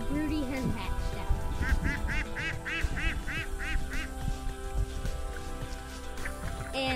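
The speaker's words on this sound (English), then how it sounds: "there are the three ducklings that the broody duck hatched out" Ducks and three young ducklings quack close by in a rapid run of repeated calls, over a busy farmyard background with a voice speaking briefly.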